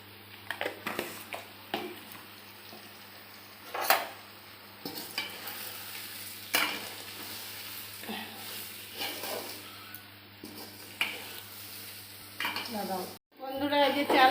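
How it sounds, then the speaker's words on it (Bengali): Raw rice being stir-fried with salt and turmeric in a pot for khichuri, intermittent scraping stirs and soft sizzling with utensil clinks against the pot, fairly close, ending in a sudden louder burst. "চালটা ভাজা ভাজা হয়ে গেছে"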